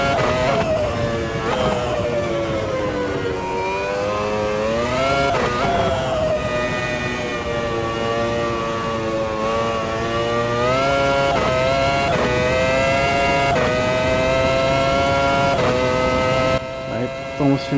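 A race car engine in the racing game Automobilista 2 roars and revs continuously, pitch rising and falling with gear shifts, loud and sustained while a voice talks over it.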